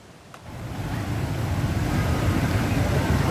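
Floodwater swirling and sloshing across a submerged street in Mangga Dua, Pademangan, North Jakarta, roughly a meter deep after heavy rain, a steady broadband rush that swells after a quieter opening.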